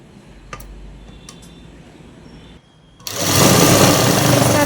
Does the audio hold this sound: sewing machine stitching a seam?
yes